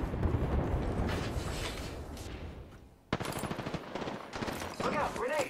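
Rapid automatic gunfire from an Apex Legends firefight rattles in dense bursts, fading briefly before a fresh volley cuts in sharply, with mixed game effects and a voice partly overlapping.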